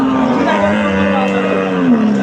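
A cow lets out a long, low, drawn-out moo close by at a cattle market, with a faint murmur of other sounds in the background.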